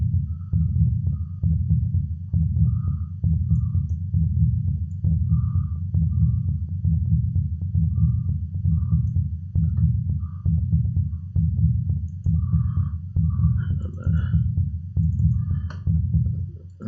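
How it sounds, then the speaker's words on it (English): Synthesized techno rumble bass pulses in a steady, loud low-end throb, with sparse percussive clicks and short tonal blips riding on top and no voices. "mess with the rhythm of the percussion, which we use to create the rumble bass"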